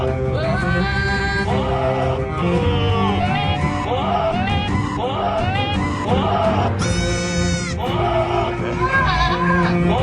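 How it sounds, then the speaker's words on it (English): Goats bleat loudly and over and over in shrill, wavering, almost human-sounding cries that overlap and dominate the scene, with other layered sound underneath. "I never really knew that a goat sounds like a human in mortal peril."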